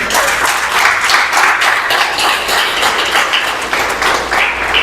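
Congregation applause during a church sermon, a dense, steady wash of many hands clapping that holds evenly and fairly loud throughout, with no voice above it.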